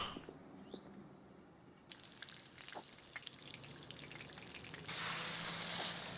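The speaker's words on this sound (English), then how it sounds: "If you don't hear that sizzle, it's not cooking." Onions grilling in the Kebab Chefs restaurant simulator game give a steady, fairly quiet sizzle and hiss with scattered crackles, growing brighter and louder near the end.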